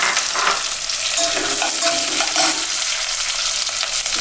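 Onion sizzling in hot oil with chana dal and urad dal for wheat rava upma, a steady, loud crackling fry with a few stirring scrapes, no voices.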